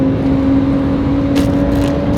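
A drift car engine held at full throttle makes a loud, steady droning roar with a constant pitch, heard up close with faint brief hiss bursts toward the end.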